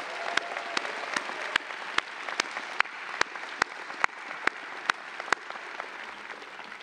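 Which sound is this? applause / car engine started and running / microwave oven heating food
applause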